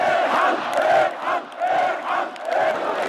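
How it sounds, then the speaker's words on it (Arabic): Protesters chanting in Tahrir Square during the Egyptian revolution, a massed crowd of voices rising and falling in rhythmic waves of call-like shouts, loud and continuous over about three seconds. "كانت الهتافات التي تنادي بالقصاص للشهداء هي الأوفر حظا في"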